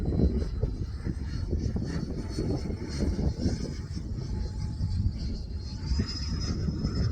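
A Freewing F/A-18C model electric jet takes off with half flap, its ducted-fan engine giving a continuous rushing whine that holds fairly steady and moderately loud throughout, with no talk over it.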